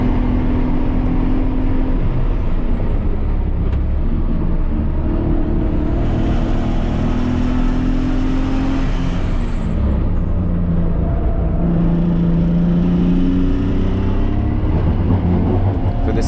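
A 160 hp BMW 323i runs flat out around the three-mile Thunder Hill race track, its engine holding a steady loud drone with slow pitch swells as it climbs and eases through the revs.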